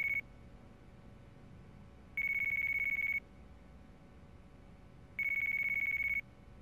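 A phone rings in the video game Yakuza 4, giving a high electronic tone in three evenly spaced one-second bursts over a quiet background hum.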